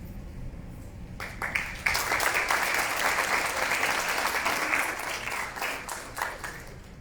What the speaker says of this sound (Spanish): Y recibimos también con un caluroso aplauso a René Pérez.